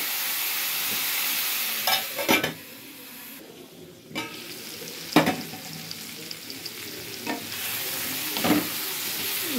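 Eggplant pieces sizzle steadily in a hot pan, a continuous frying hiss broken by a few sharp stirring scrapes and clinks, close and alone with no talk.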